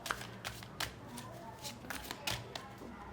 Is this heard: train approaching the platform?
no